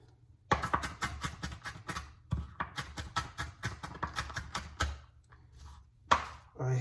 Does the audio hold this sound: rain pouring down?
no